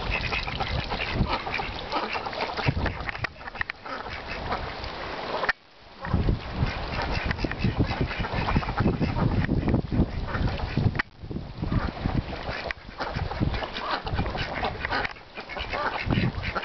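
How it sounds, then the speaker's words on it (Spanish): Ducks quack repeatedly near water at La Calera, a busy, close chorus of calls with splashing and bird noise throughout, almost no talk. "¡Pal agua, pal agua, patos!"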